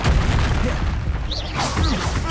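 Booming blasts from the Confringo spell in Hogwarts Legacy crash in quick succession, dense and loud with rumbling low end, overlapped by brief shouted voices.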